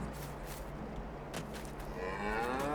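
A cow in Farming Simulator 22 gives a single low, drawn-out moo rising near the end over a steady ambient hum, fairly faint and without talk.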